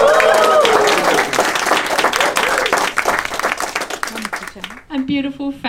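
Wedding guests at Long Reef cheer and clap for the bride, a dense burst of applause and whoops that gradually thins out before a voice speaks at the end.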